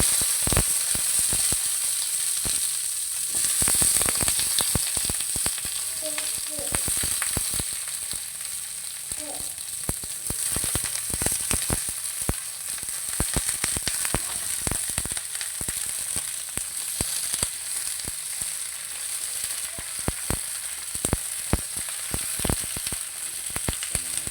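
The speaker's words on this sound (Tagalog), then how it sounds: "Then sasabayan natin sibuyas. Lalagyan natin yung talong natin." Eggplant, garlic and onions fry for adobong talong, with a steady hiss of hot oil, crackling pops and occasional stirring scrapes, close and continuous throughout.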